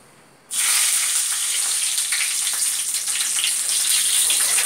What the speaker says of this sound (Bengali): গরম তেল আর ঘি কড়াইতে দেওয়া হয়েছিল শুধু ঘি দিলে তেলটা ঘিটা জ্বলে যায়